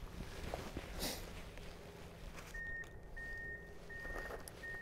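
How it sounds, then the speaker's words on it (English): A vehicle reversing alarm at a shooting range beeps steadily in the distance, a faint repeating tone over quiet outdoor background noise. "You can hear the beeping."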